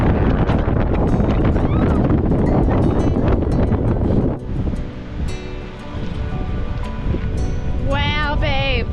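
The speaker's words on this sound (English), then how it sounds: "I don't think I've experienced a wind like this" Loud, steady wind roar buffeting the microphone throughout on Crete, Greece, with a brief lull midway and some faint chirping near the end.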